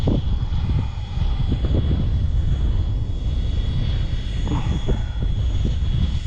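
Sebart Fiat G-91 EDF model jet flying on a gusty day, a steady whooshing ducted-fan roar with wind buffeting the microphone throughout.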